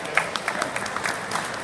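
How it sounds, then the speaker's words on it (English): Audience applause at the British Motor Show's on-stage Car SOS interview, a steady wash of clapping with a few sharper claps standing out, fairly close and filling the whole short moment. "Give a round of applause."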